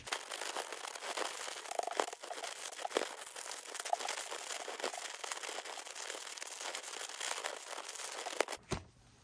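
Thermite powder and potassium nitrate are shaken and kneaded inside a sealed plastic bag, producing continuous crinkling and rustling up close, with a sharper rustle near the end.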